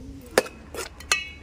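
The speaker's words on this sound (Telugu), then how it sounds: "మళ్ళీ మూత పెట్టుకుందాం." A metal lid set onto a cooking pot while making gongura chana dal curry, heard as three short clinking knocks in quick succession, close and fairly quiet.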